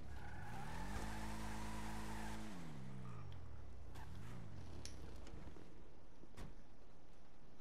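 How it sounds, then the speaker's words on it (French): A car's wheels spin and skid as it accelerates hard from a standstill, a rising engine drone with tire squeal that fades, followed by scattered clicks and knocks in a quiet setting. "Par contre, elle patine beaucoup au démarrage, regardez. J'accélère."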